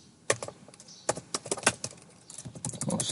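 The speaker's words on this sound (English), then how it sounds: "you need to type Google ads in your search bar" Bursts of typing on a computer keyboard, with irregular clusters of key clicks close by, a short pause in the middle, then denser, busier tapping near the end.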